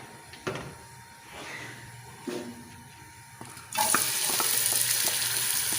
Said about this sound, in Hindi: ये एक प्याज था मीडियम साइज का, इसको हम लाइट ब्राउन करेंगे।